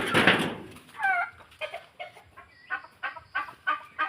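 Turkeys calling on a farm at feeding time: a burst of noisy squawking, then a string of short, repeated clucks and gobbling calls at a steady, irregular rhythm.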